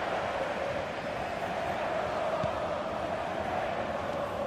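Steady stadium crowd noise from a FIFA 22 football match, a constant broad roar of cheering and applause at moderate level throughout, with no distinct breaks.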